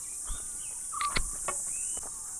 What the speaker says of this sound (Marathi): मस्त एकदम पक्ष्यांचा आवाज येतोय.